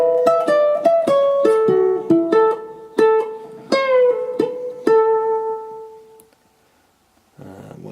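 Ukulele playing the solo from a song: about a dozen quick plucked notes with a bend, bright and close, ringing out on a long sustained note before a brief burst of noise at the end.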